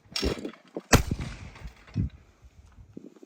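Two sharp shotgun blasts at clay targets ring out close by, a quick pair near the start, each followed by a rolling echo, with a fainter thump after.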